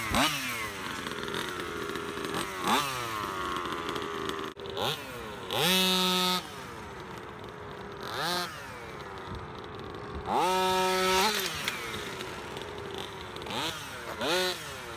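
A custom-built, upgraded HPI Baja fifth-scale RC car with a 32cc gas engine runs with a buzzing two-stroke note, revving up in repeated sharp bursts and then dropping back, moderately distant, with no talking.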